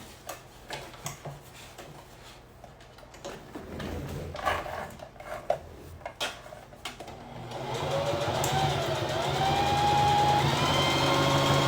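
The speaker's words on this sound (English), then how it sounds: "I'm a big fan of the heavy duty sewing machine" A heavy duty sewing machine top-stitching an apron runs in short ticking bursts, then settles into a steady, continuous whir of stitching with a faint rising whine toward the end.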